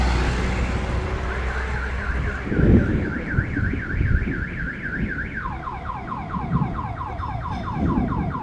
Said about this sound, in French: J'aime beaucoup l'alarme.